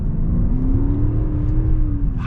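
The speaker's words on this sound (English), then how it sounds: "I love that V8. It sounds so good." A Genesis G90 5.0 Ultimate with its 5.0 V8 accelerating hard off the line, a deep rising engine drone heard from inside the cabin, loud and continuous, with no talking.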